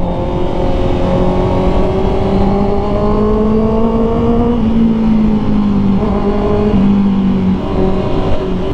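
A 2024 Honda CB650R E-Clutch motorcycle with an upgraded exhaust revs loudly and close, a sustained throaty engine drone whose pitch climbs, dips and rises again.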